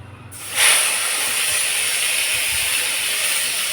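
A green paste of capsicum, green chili, coriander and ginger hits a hot pan for a paneer dish, bursting into a loud sizzle that settles into a steady, even hiss with no one talking.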